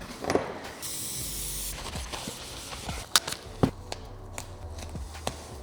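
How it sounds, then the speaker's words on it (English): Spray paint can hissing onto the metal body of a camper van to keep rust off, a steady close spray in bursts with a few knocks and clatters around it. "Spray paint so it won't start rusting."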